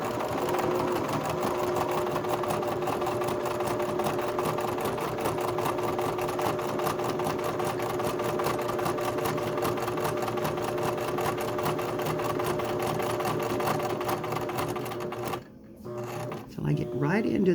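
A sewing machine doing embroidery with a wide stitch hums and chatters continuously and close up for about fifteen seconds, then stops abruptly.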